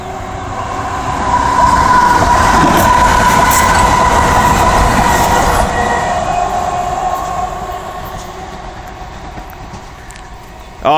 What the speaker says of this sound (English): The trolley's coming.